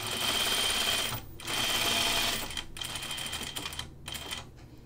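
A sewing machine stitches a button-up shirt in fast, rapid bursts, with short pauses between runs of stitching. The sound is close and fairly quiet.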